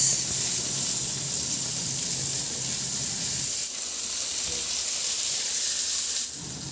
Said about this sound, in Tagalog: magisa na rin ako dyan ng sibuyas